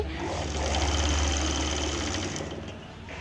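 Sewing machine double-stitching the seam of a Punjabi dress top, a steady loud close mechanical hum and rapid needle chatter running throughout, easing off near the end.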